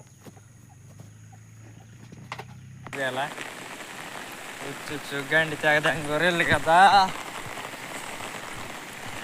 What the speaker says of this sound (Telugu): అంత బాగా వస్తుంది అసలు వర్షం అయితే.